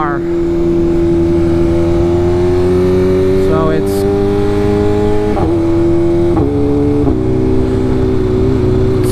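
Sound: Hellcat car engine accelerating

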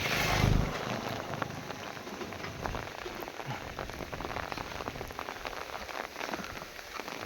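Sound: heavy rain falling

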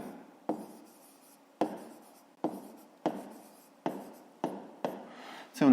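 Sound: handwriting numbers in a math exercise

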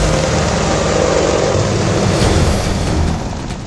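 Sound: Apache helicopter roaring in the sky

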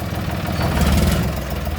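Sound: John Deere 5310 tractor engine revving

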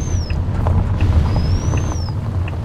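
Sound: turbo whine of a Ford Cargo 3238 truck climbing

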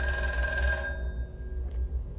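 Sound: telephone ringing in VRChat horror game Doll House

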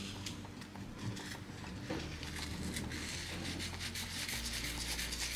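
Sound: rubbing salt and vinegar onto an antique wooden desk

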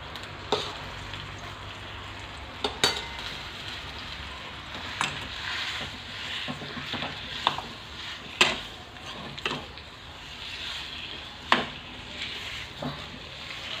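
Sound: roasting dry fruits in ghee in a pan

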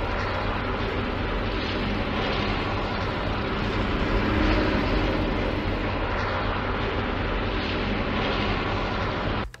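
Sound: airplane sound from the video game Fortnite

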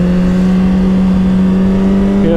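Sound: Suzuki GSXR1000 motorcycle accelerating in first gear

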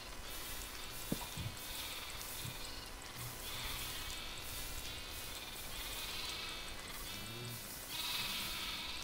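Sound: sheep bleating in a video game

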